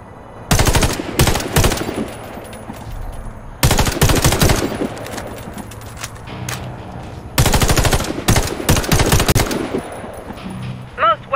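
Bursts of automatic gunfire at targets in the shooter game Warface on PS4 Pro, three long loud volleys of rapid shots separated by quieter gaps with faint game sounds.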